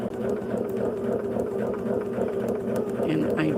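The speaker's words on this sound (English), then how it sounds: "we're just going to stitch on that line" A sewing machine stitching along a marked line on a quilt block, running in a steady fast purr of even needle strokes from start to finish at close range.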